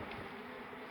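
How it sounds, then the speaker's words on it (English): Bees being scooped from a barrel beehive during a relocation, a dense, steady buzzing of many insects close by, faint and continuous for under a second. "Natty is just scooping some bees up"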